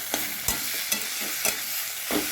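Chopped banana flower is stir-fried in a little oil, giving a soft, continuous sizzle broken by about five regular scraping strokes of a spatula against the pan, close by and with no voices.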